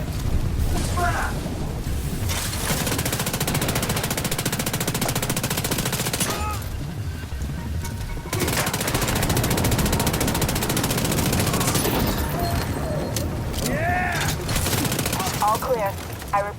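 Sustained close-range gunfire in The Division 2, SMG and shotgun bursts with rapid automatic fire and booms, nearly continuous and loud, with game voices calling out in between.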